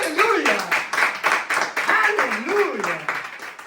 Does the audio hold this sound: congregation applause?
yes